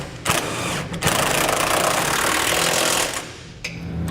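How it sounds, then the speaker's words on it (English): A power impact tool tightening factory hardware bolts with a 21mm socket while a trailer hitch receiver is installed on a 2018 Chevrolet Silverado, giving a loud, sustained rattling hammer of about three seconds, up close. "we're going to tighten our factory hardware with that same 21mm socket."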